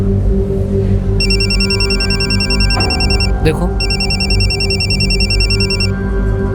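Electronic phone ringtone from an incoming call sounds in two long pulsing bursts over a room hum, with a brief word spoken between them.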